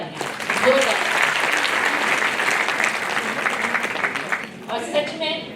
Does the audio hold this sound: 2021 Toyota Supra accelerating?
no